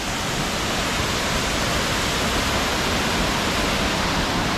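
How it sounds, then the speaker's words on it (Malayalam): At Oliyaruk falls in Erappu, water pounds down and foams as it flows on, making a loud, unbroken broadband rush heard up close with no speech. "വെള്ളം അടിച്ച് പതഞ്ഞ് ഒഴുകുന്നു."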